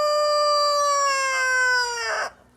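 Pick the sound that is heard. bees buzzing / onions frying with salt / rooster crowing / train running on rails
rooster crowing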